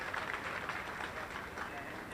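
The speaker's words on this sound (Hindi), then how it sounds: "जब बधाई देना तो जोरदार ताली बजा करके दे सकते हैं" Sustained, dense applause from an audience at the inauguration of a green government building in Bhopal, steady and fairly loud for the whole stretch, with crowd noise mixed in.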